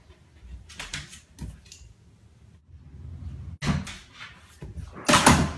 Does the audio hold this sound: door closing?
yes